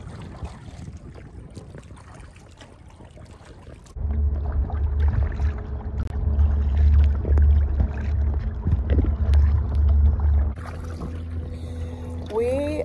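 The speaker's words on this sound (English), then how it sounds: "against the current, and we have our little Bixby battery powered motor" A canoe pushed by a small Bixby battery-powered motor heads into the wind and against the current in Voyageurs National Park, with loud steady wind rumble and water noise that swells midway and continues throughout.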